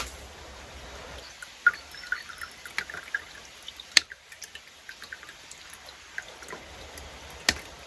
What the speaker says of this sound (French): on va rajouter du vinaigre blanc jusqu'à du coup à hauteur de la lame